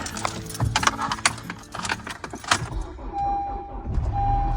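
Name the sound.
old car engine starting in cold weather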